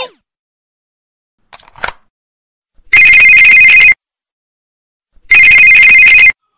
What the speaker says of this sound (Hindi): पहले मैं अपने पोते को फोन लगाती हूँ।